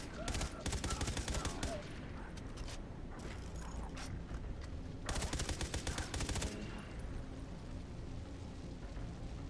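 Rapid bursts of gunfire from a weapon in the video game Far Cry 3: Blood Dragon, with loud grouped shots separated by short gaps over steady game background noise.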